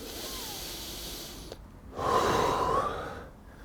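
Breathing held through a seated yoga twist, quiet airy breaths at first, then a louder, longer rushing exhale in the middle that fades to near silence.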